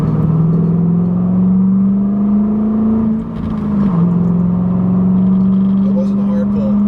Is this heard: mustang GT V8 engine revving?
yes